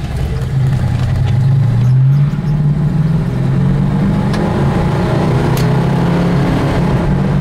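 A 1974 Plymouth Barracuda with a 360 engine and rebuilt 904 transmission accelerates while driving, its loud, throaty exhaust note rising and holding steady inside the car with constant road and wind noise.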